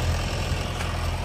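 A tractor engine runs in a steady, loud, low rumble with no break, close by and alone.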